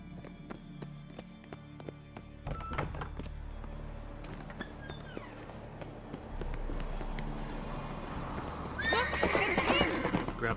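In The Witcher 3, set in Crookback Bog, a horse whinnies and its hooves clip-clop, shifting from a walk into a quickening gallop that grows louder toward the end, with brief voices and game sounds around it.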